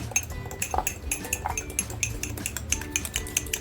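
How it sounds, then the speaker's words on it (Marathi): Spoon scraping and clinking against a bowl while mayonnaise is mixed with homemade tandoori masala for chicken shawarma, a steady run of close, light metallic taps and scrapes with no talking. "तर आता हे मियोनीज आणि तंदुरी मसाला जो बनवला होता तो एकत्र करून घेते"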